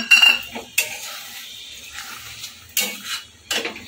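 Rinse water from bowls that held poppy seed and coconut paste is poured into a cooking pan with pointed parwal, bringing sharp clanks of metal bowls against the pan and brief splashes and sizzles between quieter stretches.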